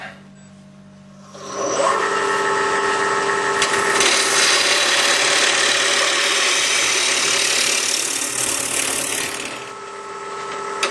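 A natural edge wooden bowl blank being rough turned on a lathe, the gouge cutting loudly and steadily for about eight seconds with a harsh, rasping, broadband tone over the machine's hum, then easing off.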